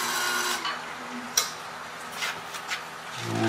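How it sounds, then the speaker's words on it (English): A wood box lid turning on a lathe gets its edge beveled, giving a steady dry rasping scrape with one sharp click partway through and a few fainter catches near the end. "I bevel the edge a little bit."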